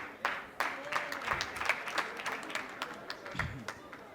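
A small group claps in scattered, uneven bursts, fairly faint, with voices talking underneath the applause.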